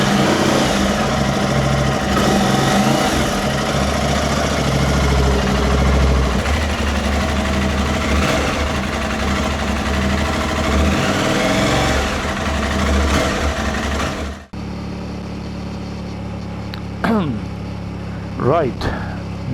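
An Aprilia Tuareg 660 motorcycle engine runs steadily at close range with a busy mechanical rumble for most of the time, then cuts off abruptly, leaving quiet with a few faint sounds.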